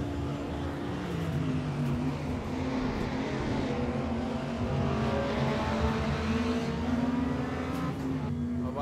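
Simulated Audi and BMW race cars in a racing video game, engines droning steadily with shifting pitch as they push through a corner together, loud and continuous with no pauses.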